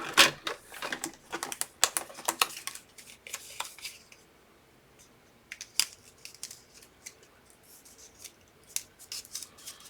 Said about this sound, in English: I'm going to cut my strips of paper to